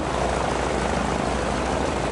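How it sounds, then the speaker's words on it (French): A light aircraft engine runs steadily, a loud, close drone that does not change for the whole stretch. No voices are heard over it. "La première fois que le moteur s'est mis à tourner, ça faisait un bruit de malade."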